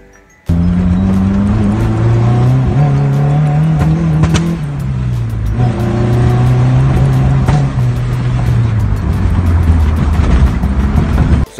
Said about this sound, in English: So I was having a backfire issue